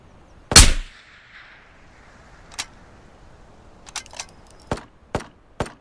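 Gunfire in a video game: one loud sharp shot near the start, then scattered single cracks at irregular intervals, some fainter and more distant, with no talking.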